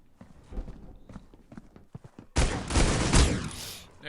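Gunfire in the Critical Ops shooter game: a few muffled taps, then a loud, sustained burst of gunshots lasting about a second and fading out, close and without speech.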